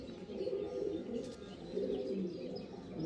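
Andhra pigeons, pure Lambadi males, cooing in a low continuous murmur, close by and steady, with soft chirps over it and no voices.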